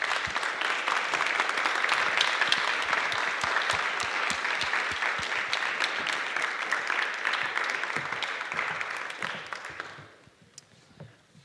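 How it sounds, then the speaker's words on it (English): A theater audience at a film festival talk gives sustained, dense applause that holds steady for about ten seconds and then quickly fades away. "So give a warm applause to Bill Woodberry"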